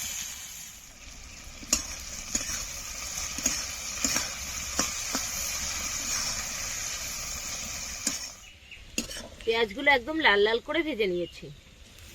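Chopped onion and tomato sizzle in oil for a village-style Bengali prawn curry, a steady frying hiss with a few sharp clicks, followed near the end by someone talking over the cooking.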